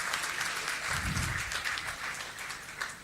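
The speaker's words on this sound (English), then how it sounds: "please give a huge round of applause to Mr. Khan." Crowd applause at an awards ceremony honoring Shah Rukh Khan with the Yash Chopra Memorial Award, loud continuous clapping from a large audience throughout, with a low rumble partway through.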